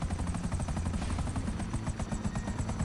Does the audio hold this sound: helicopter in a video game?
yes